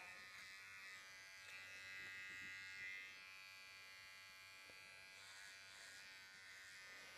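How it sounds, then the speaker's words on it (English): Electric clippers buzz steadily and close up while shaving a poodle's feet, a continuous hum with slight shifts in tone as the blade moves over the paws. "So I start with shaving, just holding the feet flat,"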